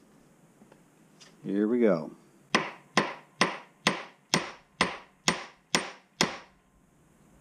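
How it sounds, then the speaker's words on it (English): Nine sharp hammer strikes on metal OBD II connector pins held in a bench vise, evenly paced and close, ringing briefly after each blow; a short spoken phrase comes just before the hammering starts. "you bring them over to your vise and flatten them out"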